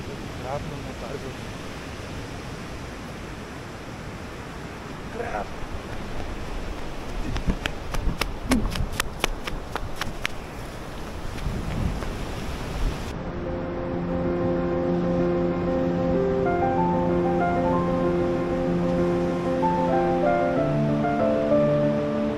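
Early-morning surf rolling onto a beach, a steady wash of breaking waves with some short clicking noises, then a held musical tone rising over the surf toward the end.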